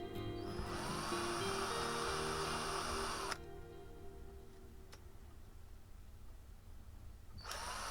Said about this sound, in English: we just move on to the larger drill, which just takes off the lip of the rivet